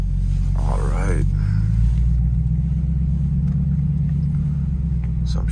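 A 2015 Jeep Grand Cherokee SRT pulling away and driving slowly around a lot: a steady, deep engine rumble heard from inside the cabin, with a brief burst of talk near the start.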